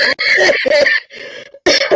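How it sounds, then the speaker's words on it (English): Several harsh, loud coughs in quick succession, close to the microphone, with a short pause before a final burst. "I've been really sick with the coughing"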